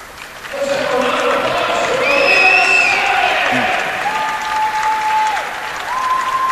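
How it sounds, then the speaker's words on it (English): A gym crowd at a college women's basketball game applauds an injured player as she gets up, steady clapping that fills the arena, with sneaker squeaks cutting through and a commentator's voice alongside. "Nice applause from everybody."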